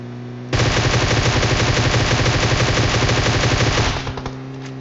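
Sustained, rapid automatic gunfire in the video game PUBG Mobile, a loud close burst lasting about three seconds that tails off into a few scattered shots.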